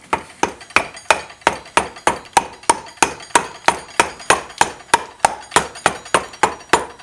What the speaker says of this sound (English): I want to take my plastic dead blow hammer,